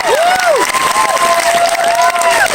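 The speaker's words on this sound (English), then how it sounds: "thank you for the applause" A theater audience at a Creed II Q&A with the director and an actor applauds in a dense, steady wash of claps, with cheering and rising-and-falling whistles over it.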